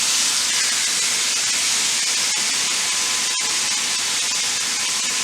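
Pork chops sear in a very hot pan on a burner turned up high, giving a loud, steady sizzling hiss that holds without a break from start to finish.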